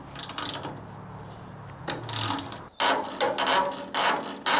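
Ratchet wrench clicking in short back-and-forth bursts as it works a seized hex bolt loose on a CJ5 Jeep under restoration, loud and close with no talk.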